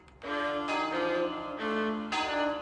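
Monastery bells ring in a sequence of resonant strikes, each new stroke sounding over the long ringing decay of the last, clear and moderately close with no voices.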